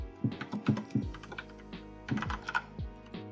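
Close, brisk typing on a computer keyboard while entering a password, irregular clusters of crisp key clicks with a short lull midway.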